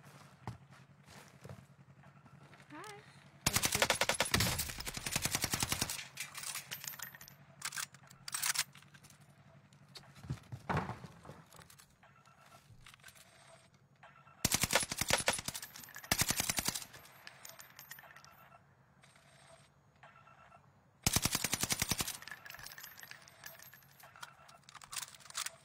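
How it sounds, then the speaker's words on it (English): Video-game gunfire comes in three loud automatic bursts, each a few seconds long, separated by quieter stretches of faint clicks and small thuds. "Don't try and strafe as you're shooting with this gun"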